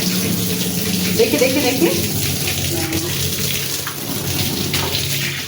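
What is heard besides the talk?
water poured to soak doormats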